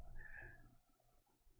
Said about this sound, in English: normal house cat with a snub tail.